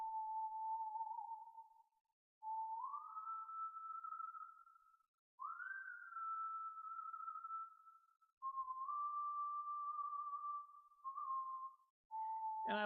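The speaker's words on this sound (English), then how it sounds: "So I want to try a whistle." A lone whistled melody for a song beat, pure and clean, moves through several sustained notes that slide upward with short gaps between phrases, close and quiet with nothing else beneath.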